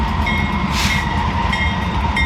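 A GE Evolution-series locomotive hauling a freight train rolls past on the Fort Worth Subdivision, a steady, loud rumble of railcars continuing throughout with a brief horn-like tone in the middle.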